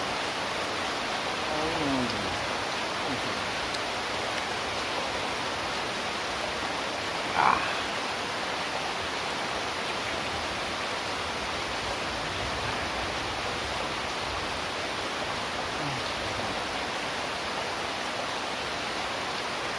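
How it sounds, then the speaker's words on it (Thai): Steady outdoor rain falling during a mushroom-foraging outing, an even hiss of drops that stays constant throughout, with a brief faint knock partway through and no talking. "บรรยากาศก็ได้ข้างหลังฝนตก"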